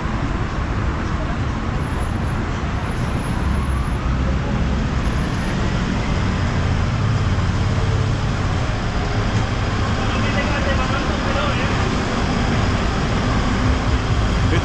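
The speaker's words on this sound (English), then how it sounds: "It's a noisy old city" Steady city traffic on the streets of old Palma, Mallorca: a continuous, dense roar of passing cars and buses, moderately loud and unbroken throughout.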